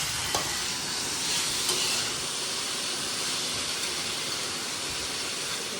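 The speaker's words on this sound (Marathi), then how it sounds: "कापलेला कांदा फ्राय करते" Chopped onions frying in a pan give a steady broadband sizzle and hiss, with a few faint stirring clinks near the start and no voices.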